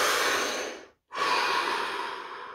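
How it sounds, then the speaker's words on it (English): One long, deep breath taken close up: a loud airy inhale, then a short silent hold, then a long, slowly fading exhale. "Deep breath."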